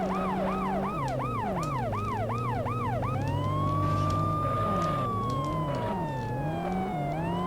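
Police car siren in the video game World's Scariest Police Chases: a fast warbling wail shifts into a long rising-and-falling tone, loud and close, with a car engine droning beneath and no other sounds around.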